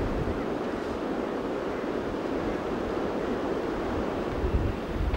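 Sea waves washing in continuously at the shore, a steady broadband roar with wind noise, moderately loud and unbroken with no voices.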